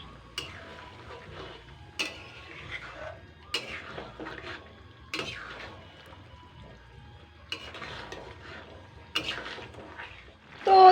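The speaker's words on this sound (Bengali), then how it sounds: "খুন্তি দিয়ে নাড়ালে ভালো হবে" A spatula stirs chicken curry in a pan, producing irregular close scrapes and soft clinks against the metal, with faint bubbling between strokes and a louder knock at the very end.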